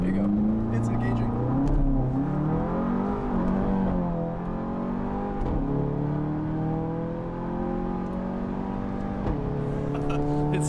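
An APR Stage 2 Volkswagen GTI accelerates loudly from inside the car, its engine note sweeping up through gears with sharp exhaust crackles popping on and off the throttle, while people talk over it.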